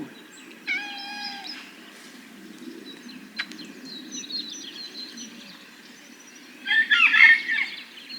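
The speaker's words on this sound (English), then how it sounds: "You're turning into a very needy cat." A cat meows several times close by, short tonal cries with long quiet gaps between them and a louder, busier burst near the end.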